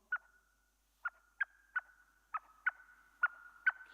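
A handheld bird call imitates the chuckle of a Eurasian blackbird. It gives a series of sharp, clucking chirps with uneven gaps between them, clear and close in a quiet setting.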